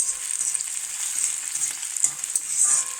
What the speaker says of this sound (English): garlic, and saute it well.